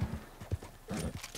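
A horse in the Red Dead Redemption 2 video game, a Wild West setting, gives a short whinny over a few quick clip-clop hoofbeats, brief and close.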